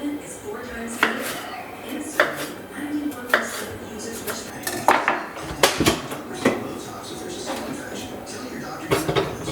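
A small hand-operated garlic grinder and dicer chopping peppers in a kitchen, with repeated sharp clacking chops in an uneven rhythm, close and fairly loud.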